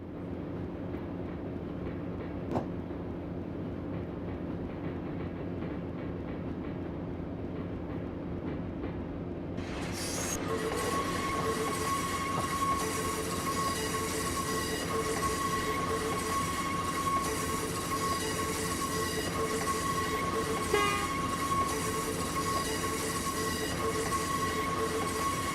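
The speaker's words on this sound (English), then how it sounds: "Lots of squealy wheel flange noises." Steel wheels of a Sacramento Northern train in Train Simulator screech with sustained, piercing flange squeal as it rolls into a mill siding; the squeal begins partway through over a constant rumble of rolling stock and carries on to the end.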